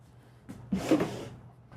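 A kitchen drawer in a Thor Hurricane 34E motorhome slides open with a short, close rolling rumble and a soft knock, heard alone in a quiet interior.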